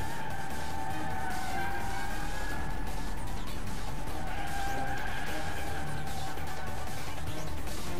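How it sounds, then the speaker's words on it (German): Car in the Alarm für Cobra 11 Highway Nights video game braking hard, with a sustained, loud tire skid and squeal that lasts the whole stretch, plus engine noise underneath. "Episch gebremst."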